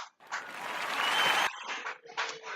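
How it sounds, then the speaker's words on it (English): Children bathing produce broad splashing water noise in rough bursts, with brief breaks and a choppier patch toward the end. "the noise in the background, my daughters are taking baths"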